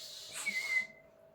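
A person tries to whistle, producing one short, breathy, airy note that wavers for under a second before fading into quiet.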